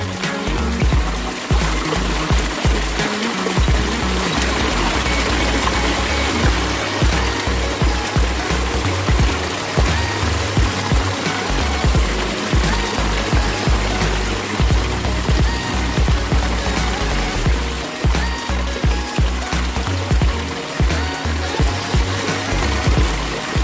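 Backyard pond water feature from a Simplicity Series pond in Altoona, Pennsylvania, water streaming and splashing continuously at close range, a dense, steady wash of trickling and falling water with no voices.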